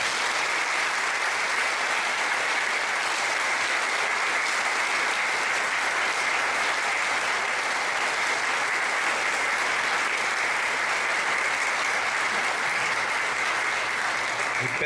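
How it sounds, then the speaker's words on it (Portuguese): Continuous audience applause for the workers at a talk, a thick, unbroken wash of clapping held at an even, loud level for about fifteen seconds. "eu gostaria de pedir a vocês que dessem um aplauso a todos os que trabalharam aqui no EMA."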